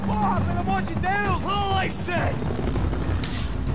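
A helicopter in the video game Max Payne 3 gives a steady rotor drone under voices talking over it.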